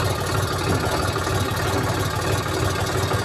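A tractor engine idles steadily and close by, a continuous low, even rumble that holds without change throughout.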